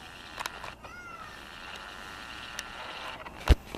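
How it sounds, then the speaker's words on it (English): Small kittens meow indoors, a few thin rising cries early on over a steady background hum, with a sharp knock near the end. "the little cats are out in there meowing about everything."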